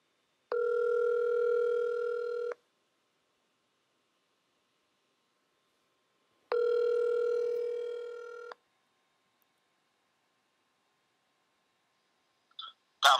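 Two long, loud phone rings, each about two seconds with a pause between, heard while calling a pizza place to place a delivery order; a brief click follows at the end, with no talking.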